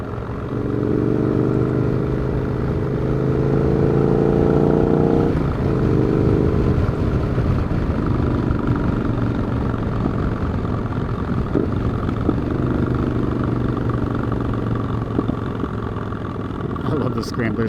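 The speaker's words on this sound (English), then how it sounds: "I love the Scrambler's engine braking." A Scrambler motorcycle engine drones steadily, its pitch falling and shifting as it slows under engine braking, with wind noise throughout and a voice talking over it.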